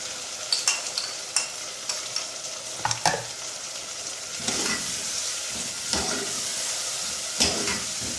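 Tomatoes sizzle steadily in a hot pan while a utensil stirs and scrapes in short, irregular strokes, with no talking.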